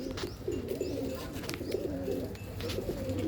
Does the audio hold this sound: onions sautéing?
no